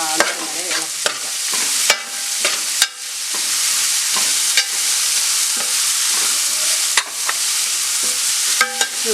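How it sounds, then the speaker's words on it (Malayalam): Onions for a Malabar mutton curry are stirred and fried toward brown, with a strong close sizzle and frequent sharp scrapes and knocks of a spoon against the pan; no voices are heard. "ഈ സവാള ഒരു ഏകദേശം ബ്രൗൺ കളർ നിറമാകുന്നത് വരെ ഇളക്കി കൊടുക്കാം."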